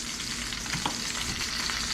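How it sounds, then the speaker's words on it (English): Steady crackling sizzle of food frying in a hot pan while making bone soup, continuous and close, with a faint scrape partway through and no voices. "I'm going to try and turn this over because it's sizzling a little"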